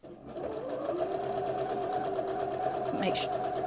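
A sewing machine runs steadily while back-stitching a shirt, a continuous close hum with a faint tonal whine, and a voice talks briefly over the motor near the end.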